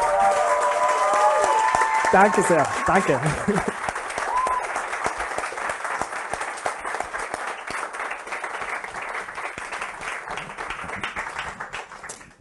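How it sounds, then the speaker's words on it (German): Audience applause for an author at a World AIDS Day book presentation, steady sustained clapping throughout with someone briefly speaking his thanks over it near the start. "nochmal einen großen Applaus für den"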